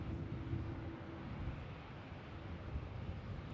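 Airliner taxiing at Melbourne Airport, a steady low jet rumble heard from a distance under gusty wind noise, with no talking.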